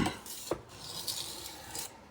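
Kitchen knife drawn across a sharpening stone, giving soft raspy rubbing strokes with one brighter scrape near the start, close and fairly quiet with no talking.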